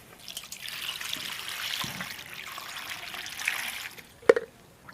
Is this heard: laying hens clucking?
no